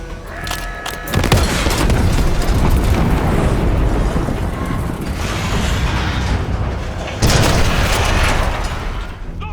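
Explosive charge destroying a Scud missile launcher in Call of Duty Black Ops 6: a loud sudden blast followed by sustained roaring, rumbling debris and mechanical clatter, then a second powerful burst near the end.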